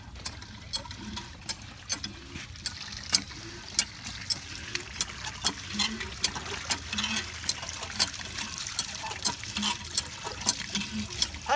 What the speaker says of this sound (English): Laura's doing all the work today, pumping the water for us